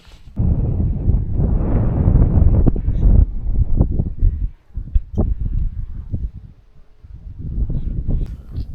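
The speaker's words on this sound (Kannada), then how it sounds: "ಗಾಳಿ ಮಾತ್ರ ಸಿಕ್ಕಾಪಟ್ಟೆ ಐತಿ" Strong gusting wind buffets the microphone at a night campsite on the Visapur fort trek, a loud low roar rising and easing in waves.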